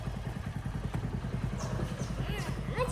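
A motorcycle pulls up and idles close by with a rapid, steady low thudding engine pulse, while voices talk over it toward the end.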